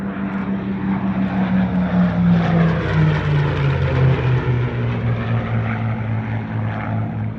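A Supermarine Spitfire Mark 8 from the Temora Aviation Museum, a Canadian-built WWII propeller fighter, roars past at the Hunter Valley Airshow with a loud, sustained engine drone whose pitch slides gradually downward as it passes.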